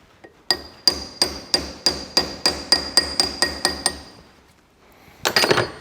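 A hammer knocks a pinion shaft into place on a Massey Ferguson 65 tractor: about twelve sharp, ringing metallic blows in a steady rhythm, close and loud, then a short pause and a final rattling clatter.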